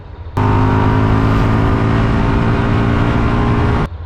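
A 2020 Indian FTR Carbon motorcycle engine revs hard in sport mode, a loud, steady, close-up roar that holds from start to finish with no talk over it.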